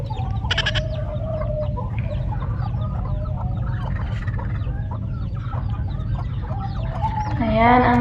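Chickens cluck and squawk around a farm coop, scattered calls near and far over a steady low hum, with a brief rooster-like cry near the end and no talking.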